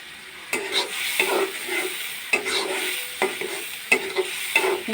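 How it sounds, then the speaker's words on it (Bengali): Spices in oil are stirred in a frying pan before eggplant and small shrimp are added. Scraping spatula strokes come in uneven bursts over a continuous close sizzle. "সুন্দর করে মশলাটাকে নাড়তে হবে"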